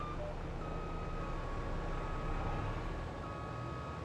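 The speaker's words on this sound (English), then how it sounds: "Don't mind me just backing across the field." A tractor in the video game Farming Simulator 22 reverses across a field, its steady beeping tones running over a loud continuous engine rumble throughout.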